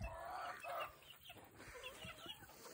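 Ducks making soft, faint quacks and clucking calls, a few short bursts close together with no talking.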